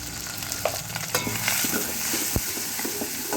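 Onions sizzle steadily in a pan with curry leaves for Andhra sambar, a dense continuous frying hiss broken by occasional spoon scrapes and small pops, close and with no voices.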